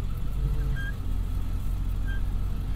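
A 1999 Ford 7.3 Powerstroke diesel truck drives along with a steady low engine drone and road rumble from inside the cab, plus a couple of faint short chirps.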